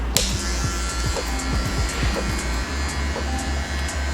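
Electric hair clippers with the guard fully open, cutting hair during a fade, giving a steady close buzz with rhythmic pulsing as they pass over the head.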